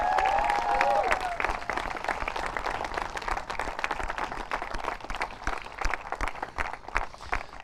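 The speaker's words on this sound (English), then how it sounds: "I would love a special round of applause for our team from Nepal as well." Applause at a women's football awards ceremony: a crowd claps irregularly, with some cheering and a brief voice at the start, the clapping loose and uneven as it continues.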